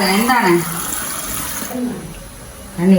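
Water is poured into a cooking pot during home cooking, a splashing, rushing flow that comes and goes in short pours, with people talking over it.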